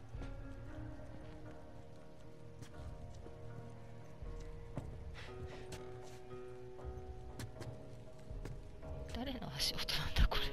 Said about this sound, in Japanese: 足音なんだこれ